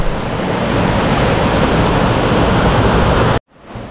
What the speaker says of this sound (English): there's another waterfall, it's nice, just fast running water